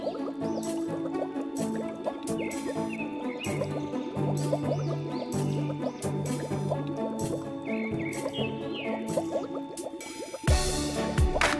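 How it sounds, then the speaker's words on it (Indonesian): Water splashes and sloshes steadily as a person swims in a clear natural spring pool, with continuous bright churning and a louder burst of splashing near the end. "Ini temanku sedang berenang dan dia mantan atlet Porseni SD."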